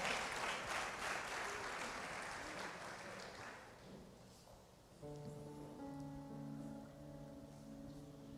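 A church congregation applauds during a worship service, a dense wash of clapping that slowly fades and gives way to sustained keyboard chords from about five seconds on.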